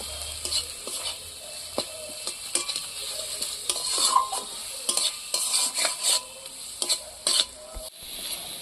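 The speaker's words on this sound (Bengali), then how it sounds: "এইটাও আমি একটু ভেজে নিচ্ছি।" Ginger-garlic paste frying in hot oil with onions in a pan, a steady close sizzle broken by repeated scraping and clinks of a stirring spoon against the metal, with no voices.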